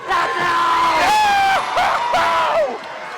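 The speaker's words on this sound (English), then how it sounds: "This runners crowd, this sold-out crowd tonight at Origins." A sold-out wrestling crowd at an indoor show roars and yells continuously, with loud whoops and cheers rising and falling over a few seconds.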